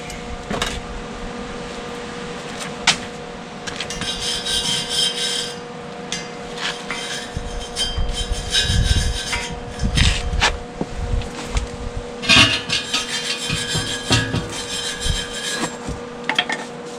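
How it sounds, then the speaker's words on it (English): Stiff brush scrubbing over a welded steel vise stand in a home workshop, a steady raspy rubbing in repeated strokes that grow louder and busier midway, with a constant background hum. "Just gonna get the brush."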